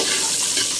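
Chicken curry stirred in a pan, a steady scraping and sizzling bed of sound, close and continuous through the short moment with no talk.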